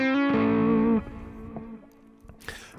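A distorted electric guitar chord rings out loudly with distortion level around 5 to 7, then cuts off, leaving a fading buzz and a few scratchy string noises before a sharp noisy burst.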